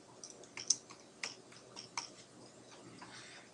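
Keys clicking on a computer keyboard as a first name is typed into an account form, several light, uneven taps close by with no talking.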